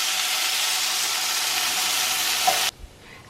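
Two slices of bacon fry in a heated pan, giving a loud, steady, close sizzle that cuts off abruptly near the end, leaving a quiet clunk.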